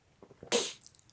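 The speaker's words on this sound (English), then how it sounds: "I was just sneezing my brains out" A person lets out one sharp, loud sneeze close by. Faint soft rustles come before it, and it fades into quiet.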